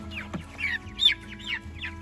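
A flock of meat chickens clucks steadily, overlapping short calls from several birds close by over a low hum, no talk.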